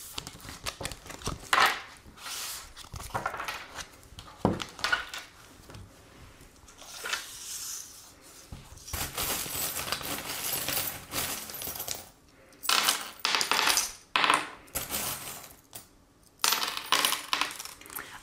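Small metal divination charms are cast and shuffled during a tarot-style reading, giving repeated clinking, jingling rattles in bursts of varying loudness, close and clear with brief pauses between throws and no talking.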